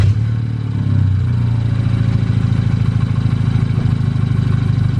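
A BMW F30 engine runs steadily after an exhaust repair, a loud, even low rumble with a faint rattling clatter throughout, close by and with no talking.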